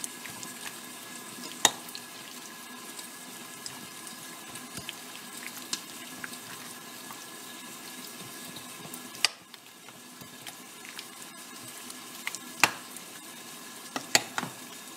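Onions frying in a pan make a constant, even sizzle with light bubbling. Sharp clicks and scrapes of stirring come now and then, and nobody speaks.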